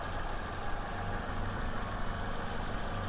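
A 2011 Toyota Vitz with a four-cylinder engine, CVT gearbox and only 6,000 km on it idles nearby, a smooth, even low hum that holds steady throughout with no voices.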